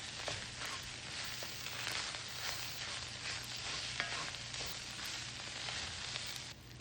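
Tomato paste toasting with browned chili meat in a pan gives a steady, dense sizzle, broken by soft scraping stirs, close and continuous with no talking.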